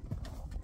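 Hooves of a Percheron draft horse clip-clop in a couple of quick close steps while it hauls hay on a farm.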